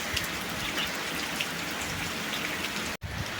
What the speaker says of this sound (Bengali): ঝড়টা একটু কমেছে কিন্তু বৃষ্টি কমছে না কাল থেকে কন্টিনিউ এরকম বৃষ্টি হচ্ছে